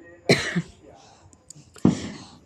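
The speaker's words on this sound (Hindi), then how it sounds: "सॉरी, खांसी आ रहा है।" A woman on a rooftop gives two distinct, close, fairly loud coughs about a second and a half apart, with a faint breathy noise between them.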